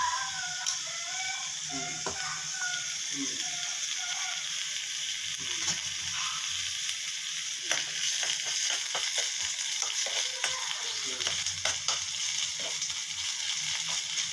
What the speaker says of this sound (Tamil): வெங்காயம் பாரு வதங்கிட்டு இருக்கும்போது